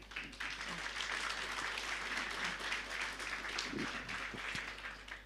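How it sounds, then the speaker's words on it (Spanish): A church congregation at a Sunday service applauds loudly and steadily, a dense wash of clapping from a large crowd that continues throughout with a low hum beneath. "voy a pedir que demos fuertes aplausos."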